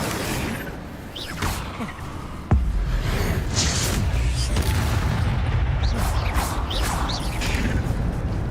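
Incendio fire spell cast in Hogwarts Legacy, a sharp burst followed by a roaring, crackling whoosh of flame amid rumbling game effects and scattered mechanical clanks, loud and continuous.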